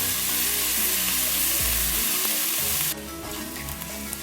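Two tablespoons of garlic frying in a pan on a medium flame for Gobi Manchurian, a loud, dense, continuous sizzle that drops to a lower, steadier crackle near the end.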